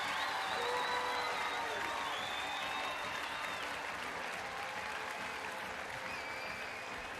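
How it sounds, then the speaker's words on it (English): Large home stadium crowd in Volos, Greece, roaring and applauding after a gold-winning pole vault clearance at an athletics championship, a sustained dense wall of clapping and cheering with whistles, steady and loud throughout. "With gold secured, Manolo Corrales soars over 5:92, and the crowd goes wild"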